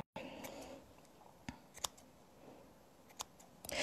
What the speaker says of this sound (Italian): Ora andiamo con le nostre forbici.